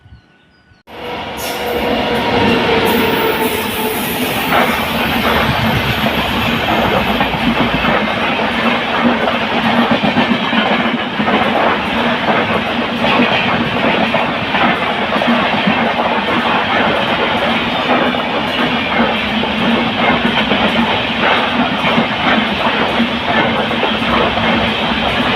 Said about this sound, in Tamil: இப்போ போன ட்ரெயின் வந்து ட்ரெயின் நம்பர் 13352 Alleppey-Dhanbad Express